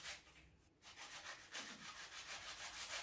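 A wooden brush block is rubbed with sandpaper in a steady, faint, continuous scratching, close by and alone, with no talking.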